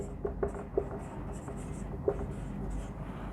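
Pen or chalk writing out a maths proof during a class lesson, with a few sharper taps and scratches over a steady low room hum, close and moderate in level.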